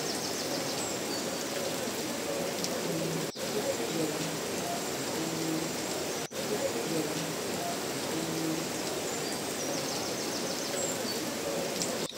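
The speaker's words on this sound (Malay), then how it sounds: "Hari masih hujan" Steady rain falls in Bandung, Indonesia as a constant dense hiss with faint tonal sounds in the background, even and continuous with no voices.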